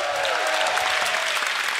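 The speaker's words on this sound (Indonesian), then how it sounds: "Tepuk tangan untuk Ari." An audience at a stand-up comedy show bursts into dense, loud applause that holds steady throughout the short stretch.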